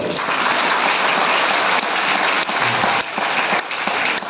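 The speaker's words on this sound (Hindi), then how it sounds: "सर के लिए ताली बजाओ।" Sustained audience applause for a speaker called to the front at a motivational talk by BC Chhabra, a dense steady wash of many hands clapping at full volume throughout.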